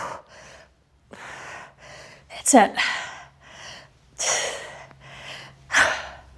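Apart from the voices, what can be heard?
heavy breathing during HIIT workout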